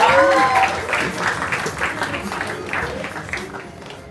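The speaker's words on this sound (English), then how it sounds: "let's have a huge round of applause for Durjoy Datta" An audience claps for a guest on a comedy talk show, a moderate ripple of applause mixed with crowd noise and cheering voices, loudest at the start and tapering slightly over four seconds.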